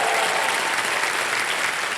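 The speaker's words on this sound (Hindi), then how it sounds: "तालियां बज जाए इनके लिए।" A studio audience on the quiz show Kaun Banega Crorepati applauds a contestant who has won 25 lakh rupees, a dense, even roar of clapping that fills the whole moment.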